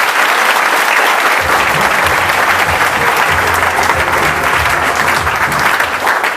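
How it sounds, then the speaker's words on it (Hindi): Loud, dense applause from a seated audience at an Ek Pahal talk event, with continuous clapping filling the whole stretch and a low murmur of voices underneath. "तो जोरदार एक पहल के लिए तालियां दीजिए।"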